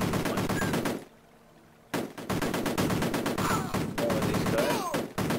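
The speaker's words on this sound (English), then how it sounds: "I can shoot them up there" Rapid bursts of gunfire from the Amiga video game Cannon Fodder, loud and continuous with game music and effects, broken by a near-silent gap of about a second before the shooting resumes.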